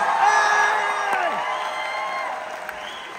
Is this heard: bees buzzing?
no